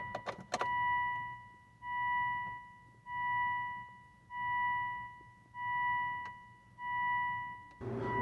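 A 2005 Volvo S80 2.5-litre T5 AWD with its key cycled repeatedly, giving six evenly spaced electronic chime tones, each about a second long, separated by short pauses over a faint low hum, with a brief click at the start.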